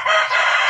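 A rooster crows among farm chickens kept in a backyard poultry pen, one loud, close, sustained crow with a bright, slightly ragged tone and no talking over it.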